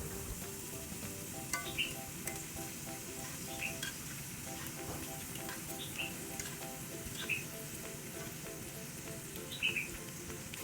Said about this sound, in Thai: นำเกี๊ยวลงไปทอดได้เลยค่ะ ทอดไปเรื่อยๆ จนสุก